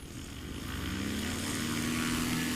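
At a STOL competition, a propeller airplane takes off from a grass airstrip, its engine drone building steadily louder with a rising tone and no talking.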